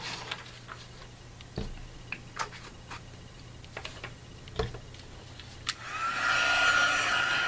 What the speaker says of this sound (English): I'm going to be doing the heating with my heat tool.